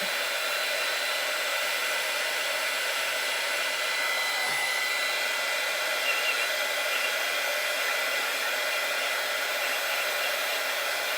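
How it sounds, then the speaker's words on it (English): A 300 watt heat gun blows hot air in a steady, loud, unbroken whoosh that holds close and constant throughout, with no talking. "I'm getting another heat gun. This is a 300 watt."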